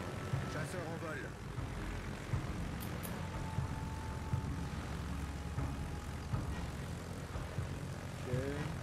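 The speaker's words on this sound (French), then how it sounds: "Chasseur en vol." Fighter aircraft flying overhead in the World of Warships naval video game, a continuous propeller engine drone with brief swooping tones, layered under game effects and background noise.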